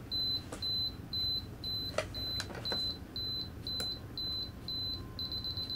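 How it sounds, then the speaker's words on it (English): A thin electronic beep from a Canon AE-1 Program camera's self-timer repeats at an even pace, about a dozen times, speeding up into quick rapid beeps at the end. "here I hear the beeping"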